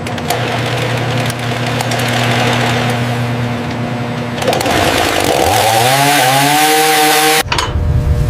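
A newly built chainsaw from a factory line idles steadily in a field test, its engine drone loud and close, then it revs up with a rising whine before cutting off abruptly near the end.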